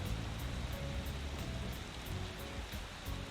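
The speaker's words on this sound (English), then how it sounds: "Soon enough, a pitter-patter turns to rumble as a torrent of rain blankets the streets." Heavy video-game rain pours onto city streets in a dense, constant hiss with a low rumbling wash, steady and enveloping from start to finish with no voices.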